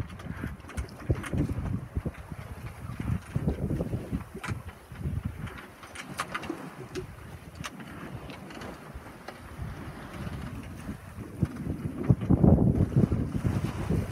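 A sailboat runs fast far offshore in the Bay of Biscay, with steady wind buffeting the microphone, rushing water along the hull and occasional knocks and creaks, and no talking.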